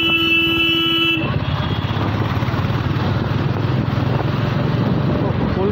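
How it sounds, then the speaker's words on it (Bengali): Vehicle horns honk in busy Kolkata street traffic, with a sustained horn blast at the start over a constant close rumble of engines and motorbikes. "কলকাতা রাস্তায় হর্ন মারলেও কেউ কাউকে ছাড়ে না"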